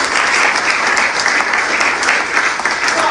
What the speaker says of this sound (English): So please, one more clap for Omoyele.